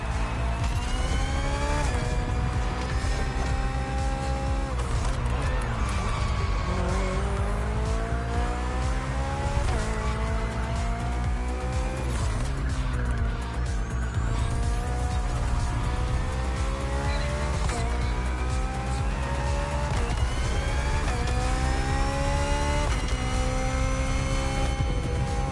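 A BMW Hybrid V8 race car in the racing game The Crew Motorfest, its engine roaring loud and close throughout, rising and falling with gear changes, with tire squeal in the corners.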